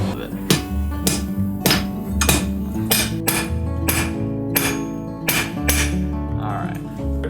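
Hot metal is hammered on an anvil to form a head, with sharp, ringing blows about every half second over a steady low hum, sometimes under faint talking.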